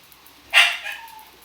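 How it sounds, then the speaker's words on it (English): A single sharp dog bark rings out indoors at moderate loudness, a brief yelp that fades quickly into a quiet room. "Now the dog's being difficult. I don't know if you guys hear that or not."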